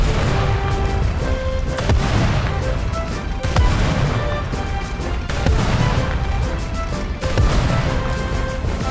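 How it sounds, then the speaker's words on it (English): Calliope rocket barrage fired in a video game at German ground vehicles from up to 4 kilometers, a dense, continuous series of rocket launches and impact blasts with repeated sharp crashes and booms, loud and without pause. "All surviving combat vehicles of the previous stages will be fired at with rockets from a maximum distance of 4 kilometers."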